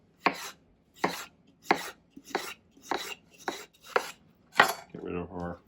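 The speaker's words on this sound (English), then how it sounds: "We're going to take the seeds out, slice it." A knife slices through a peeled melon on a cutting board, sharp evenly spaced cuts at a steady rhythm, about seven crisp strokes close by, then a softer clattering shuffle at the end.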